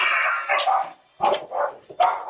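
A dog barks during a bear attack, loud and close, in a burst of several sharp barks and yips separated by short gaps.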